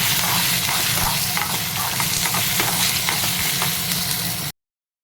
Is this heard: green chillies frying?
yes